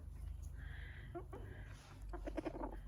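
A few soft clucks from chickens nearby, quiet and intermittent over low background rumble.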